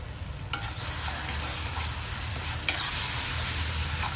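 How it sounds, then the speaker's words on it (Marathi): Masala with tomato ketchup and salt stirred and mixed in a hot pan for a street-style veg frankie filling, a steady close sizzle with scraping stir strokes throughout. "छान मिक्स करून घेऊ मसाला."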